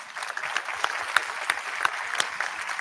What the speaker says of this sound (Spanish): sí, pueden aplaudir, perfecto